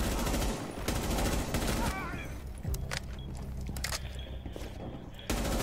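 Rapid gunfire in a shooter video game: dense bursts of shots crackle through the opening seconds, then thin to scattered sharp reports and clatter, with a loud burst returning at the end.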